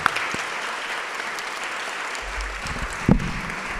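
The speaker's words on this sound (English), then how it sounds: "let's have one more round of applause for all of the great fellows" Audience at a dinner celebrating fellows applauding: steady, dense clapping from a crowd in a room, held at an even level throughout with a brief louder thump near the end.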